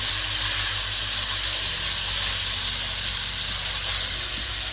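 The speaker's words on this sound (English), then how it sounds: "add yogurt and then cook it, stirring continuously on a low flame" Yogurt cooking into a spiced masala for chicken curry over a low flame while being stirred, giving a steady soft sizzle and hiss that runs evenly throughout with no talking.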